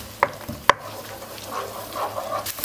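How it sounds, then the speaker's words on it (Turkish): Chopped onions sautéing in a pan for a meatless Turkish main dish: a soft, steady sizzle with light stirring, opened by a few sharp utensil clicks against the pan. "Soğanları güzelce önce kavuracağım."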